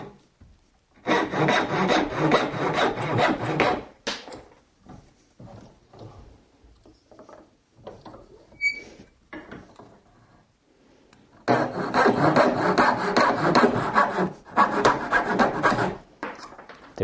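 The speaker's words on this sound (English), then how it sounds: "by the way, is called a dovetail saw." A dovetail saw cuts through wood for a dovetail joint, two long bursts of steady rasping back-and-forth strokes separated by a quieter stretch of small taps and handling noises, close and fairly loud.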